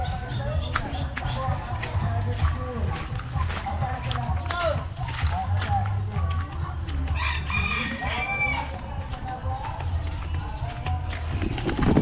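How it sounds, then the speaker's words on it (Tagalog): Chickens and ducks at a farmyard, with clucking and a rooster crowing several times over a steady background of birds, while people talk nearby. "Itik at manok."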